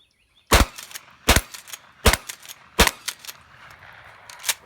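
Pump-action shotgun fire during a Remington 870 versus Mossberg 500 comparison, with four loud, sharp close-range reports in a steady rhythm, each followed by a short rattling echo and a fainter crack at the end.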